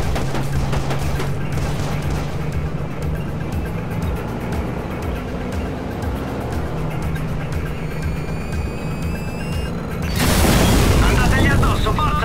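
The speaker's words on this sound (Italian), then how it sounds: "È esploso qualcosa." Explosion in the Watch Dogs video game: a sudden loud, broadband blast near the end, breaking in over steady game ambience with a low engine-like drone, then a sustained roar as it rumbles on.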